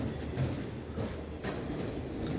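A D&H freight train rolls past at night with a steady rumble and faint rhythmic rail clatter, at moderate distance.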